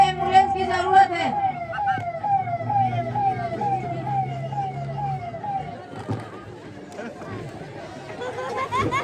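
An ambulance siren wails in repeating rising-and-falling sweeps, loud and close in the street, with chatter from a crowd and vehicle noise running underneath.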